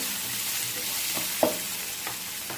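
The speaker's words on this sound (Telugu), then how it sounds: "ఇప్పుడు ఇందులో తరిగిన ఉల్లిపాయ ముక్కలు వేసుకుంటున్నాను ఇప్పుడు ఈ ఉల్లిపాయలు కూడా ఒక్క నిమిషం ఒక్క నిమిషం పాటు ఇలా వేగనివ్వండి" Chopped onions fry in a pan with an even, continuous hiss and a few faint knocks, near and steady, without voices.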